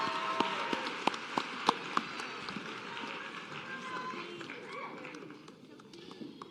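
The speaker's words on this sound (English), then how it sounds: "Another round of applause" Scattered claps ring out from an audience at a white coat ceremony, a few sharp hand claps early on that thin out under a speaking voice and room murmur.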